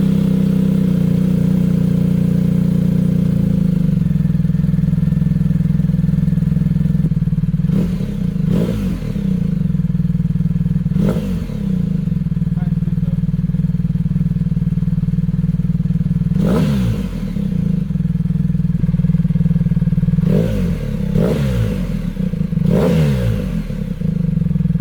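BMW R1200R boxer-twin motorcycle fitted with a new slip-on exhaust, idling steadily with several sharp throttle blips and revs spaced through the clip, loud and close with no talking.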